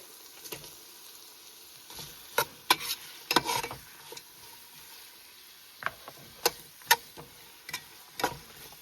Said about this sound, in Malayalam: പച്ചമുളക്, ജിഞ്ചർ ഗാർലിക് പേസ്റ്റ് ചേർത്ത് കൊടുക്കാം.